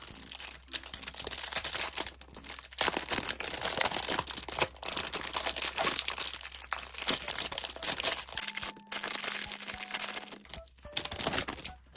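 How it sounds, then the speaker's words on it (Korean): Plastic merchandise packaging, a K-pop goods order, is torn open and handled up close, with repeated crinkling, crumpling and ripping bursts, brief pauses and a short tonal hum near the end. "이것부터 한번 뜯어볼게요"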